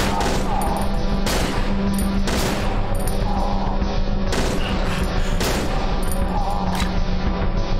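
Loud gunfire in the horror video game Cry of Fear, with repeated close bursts of shots and booming reports cracking out at irregular intervals throughout.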